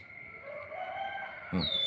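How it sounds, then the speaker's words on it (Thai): Birds calling in Thai countryside near gardens and a temple: a thin sustained whistling call carries through, then a short brighter chirp near the end, over faint low background noise with no speech. "เสียงนก"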